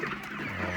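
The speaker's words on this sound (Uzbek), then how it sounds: "Yaxshi variantdagi Andijon qora jo'jalari." Andijan black chickens, young birds about two and a half months old, clucking softly in a dense, steady flock murmur at close range with no talk over it.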